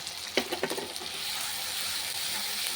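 Ground garam masala and spices fry in hot oil for a yogurt chicken curry, a close, steady sizzle with a few clicks of a stirring utensil against the pan at the start.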